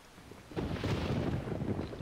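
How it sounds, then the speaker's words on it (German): Thunderstorm in Minecraft, a sudden broad rumble of thunder swelling in after a quiet start and rolling on at moderate loudness, with no voices. "Oh, Gewitter, super. Bitte schlag nicht in mein Haus"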